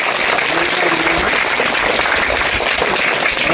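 A crowd at a community health camp gives a welcoming guest a loud, sustained round of applause that holds steady and dense, with no talking, for the whole few seconds.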